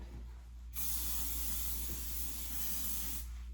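A single steady hiss of an aerosol hairspray, lasting about two and a half seconds, close and bright against a quiet low hum.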